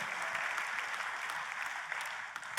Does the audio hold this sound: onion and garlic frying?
no